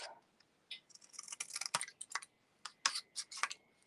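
Ribbon scissors cut ribbon in quick, crisp snips and clicks in short irregular bursts, close by, with brief pauses between cuts and no talking.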